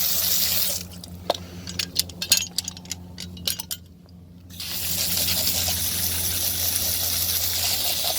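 Water from a tap runs steadily as Jeep Grand Cherokee WJ tow hook parts are rinsed off after soaking in cleaner, with a loud continuous rush interrupted by metallic clinks and splashes before the flow resumes.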